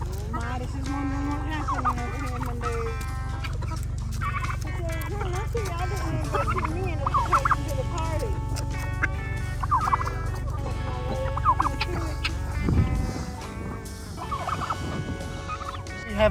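Several farm turkeys on a homestead gobble steadily and loudly up close, their calls overlapping in a busy chorus for most of the stretch, with a brief lull near the end.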